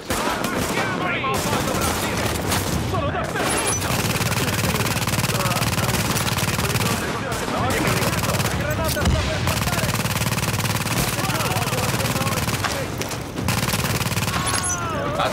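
Gunfire in the video game Tom Clancy's The Division, loud sustained bursts of automatic weapons fire with rapid overlapping shots, nearly continuous with brief gaps, voices talking now and then.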